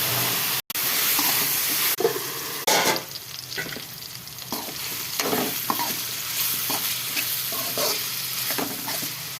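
Ridge gourd, green chillies and tomatoes fry in a pan with a constant loud sizzle and hiss, broken by repeated scraping stirring strokes; no one speaks.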